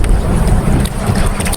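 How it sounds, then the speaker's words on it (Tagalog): Strong wind roars steadily against the microphone during rain, a heavy low rumble with constant buffeting throughout. "Malakas pati ang hangin."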